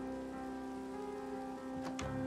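Rain falling in the Minecraft video game, a steady soft patter throughout under a constant tonal background, with a couple of brief sharper sounds near the end and no talk.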